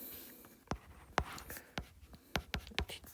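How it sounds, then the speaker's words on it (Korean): A pen writing on a printed physics worksheet gives a series of quick, close scratchy strokes and taps at an irregular pace, fairly quiet and with no voice over them. "그러면 여기 한번 써볼게요."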